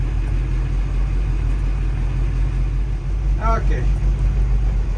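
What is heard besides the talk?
boat engines idling while warming up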